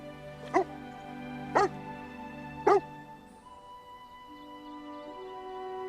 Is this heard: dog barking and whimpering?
yes